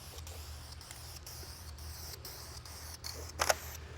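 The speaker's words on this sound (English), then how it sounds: "And finally, we'll give a thick coat of gray primer." A spray gun lays a thick coat of gray primer on the body of a 1929 Ford Roadster rat rod, giving a faint, steady hiss with a short louder burst near the end.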